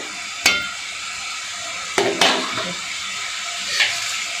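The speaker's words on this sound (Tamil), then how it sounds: "ஒரு 2 நிமிஷம் நல்லா வதங்கி வரட்டும்." Vegetables sauté in a pan for a Tamil masala kulambu, a low steady sizzle broken by three or four sharp utensil knocks against the pan.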